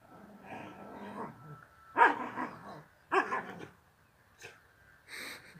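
A dog barks in a few loud, separate bursts, with breathy whimpering and panting sounds between them, close to the microphone and with no talk.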